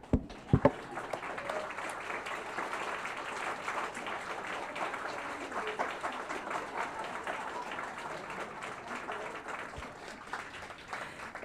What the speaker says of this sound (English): Please stand and we will applaud you.